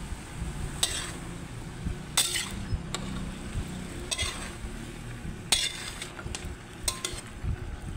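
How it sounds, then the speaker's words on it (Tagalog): Cauliflower and broccoli being stirred for chopsuey in a pan, with scraping utensil strokes and a few sharp clinks over a steady sizzling hiss. "Mix lang natin dyan."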